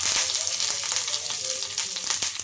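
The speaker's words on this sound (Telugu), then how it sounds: "ఆయిల్ కూడా హీట్ అయింది ఇంకా కొంచెం మినప్పప్పు అలాగే జీలకర్ర ఆవాలు కరివేపాకు" Urad dal, cumin, mustard seeds and curry leaves frying in hot oil as a tempering for rava dosa, a steady close sizzle with small crackling pops throughout and no talking.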